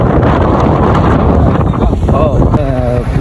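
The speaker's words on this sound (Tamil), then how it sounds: "என்ன மாதிரி அலையெல்லாம் வந்துட்டு அடிக்கிறது பாருங்க" Wind-driven waves slapping through flood waters around submerged houses in Jaffna, a loud continuous rushing wash with heavy wind buffeting on the microphone and a voice speaking over it near the end.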